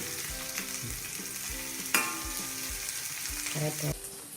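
Onions and other ingredients for kadalai theeyal sauté in a pan, a steady sizzle broken by regular spoon scrapes and stirring strokes, close up, with a faint melodic tone running beneath and no speech.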